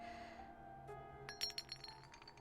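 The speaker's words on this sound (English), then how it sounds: "2 glass vials filled with red liquid came rolling out from out of my bag." Two glass vials filled with red liquid roll out of a bag in the Hakuoki video game, giving a short cluster of bright, light clinks and chinks against a quiet, humming backdrop.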